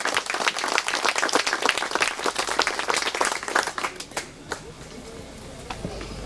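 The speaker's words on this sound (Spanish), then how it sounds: "espero ese fuerte aplauso para honrar la presencia del señor alcalde" A crowd applauds at a street inauguration in a community, dense clapping for about four seconds that then thins into scattered claps and fades.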